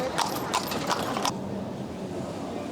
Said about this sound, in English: Horse and carts.